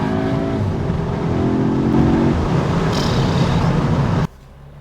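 A 2021 Audi S3 Sportback accelerates hard with a loud, close engine note that climbs steadily, then a gear change cuts the roar abruptly near the end, leaving a much quieter hum.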